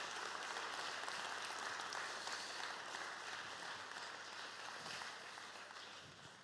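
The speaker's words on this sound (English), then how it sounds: "Give these guys a round of applause." At a church talk, an audience gives a sustained round of applause that stays dense and fairly even, then gradually fades toward the end, with no speech over it.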